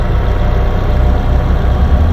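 Mini Cooper R50/R53 with a 1.6-litre engine idling smoothly after a spark plug change, a steady, even hum heard close up and without pauses.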